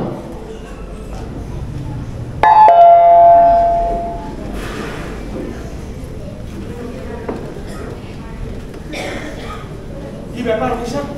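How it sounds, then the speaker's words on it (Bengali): A doorbell rings once in a home, a loud bright chime that fades over a couple of seconds amid room ambience and some background movement, part of a Bengali drama scene. "হঠাৎ করে কলিং বেলটা বেজে উঠল।"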